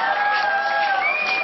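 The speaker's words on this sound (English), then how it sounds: "a lot of applause there, right?" An audience at a science slam in Berlin breaks into loud, continuous applause and cheering, with high whistles and whoops riding over the crowd throughout.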